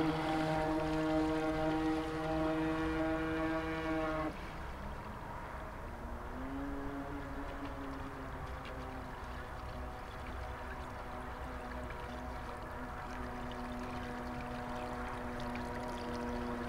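A vintage RC model boat's electric motor whines over water after a motor change, a steady tonal hum that drops in pitch and level after a few seconds, then rises again and holds under faint water wash.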